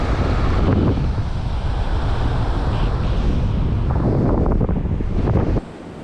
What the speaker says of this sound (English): cause the wind just pick up more. Blow really strong.